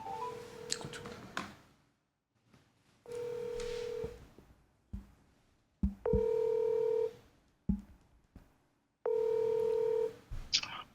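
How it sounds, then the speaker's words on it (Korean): Several bursts of telephone dialing tones, each a steady electronic beep held for about a second with pauses between, connecting a call for a live broadcast interview; clear and close with little else around. "전화 한번 연결해 보시겠어요?"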